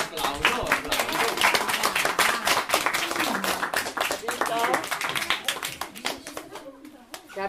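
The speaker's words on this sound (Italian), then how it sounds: "Un applauso, un applauso." An audience claps steadily at a live rhyme recital, a dense run of hand claps that carries through the whole stretch with voices mixed in.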